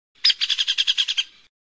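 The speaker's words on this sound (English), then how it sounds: "Woodpecker." Woodpecker calling with a rapid run of about ten sharp, bright chirping notes in quick, even rhythm, close and clear, with no other sound around it.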